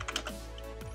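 A few quick keystrokes on a Mac computer keyboard, soft and close, clicking in a brief burst against a quiet background.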